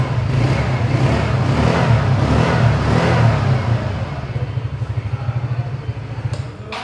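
A TVS Ntorq 125 scooter engine revved loudly a few times with a deep, bassy roar, then settling back to a throbbing idle, heard close and without talk.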